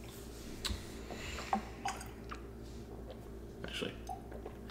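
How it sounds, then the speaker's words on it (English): Water is added to a glass of Glenlivet 17 year-old single cask whisky, giving a few faint drips and small glassy clinks over a quiet room hum. "I'm going to be adding water here with the expectation of a nice improvement"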